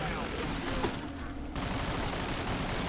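Guns fire in the video game Killing Floor 2, a dense run of rapid gunshot bursts over a continuous loud din, with a brief dip mid-stretch before the barrage resumes.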